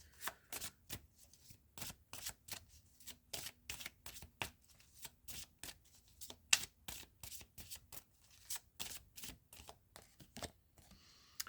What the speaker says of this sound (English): I'm feeling compelled to draw a goddess card for us.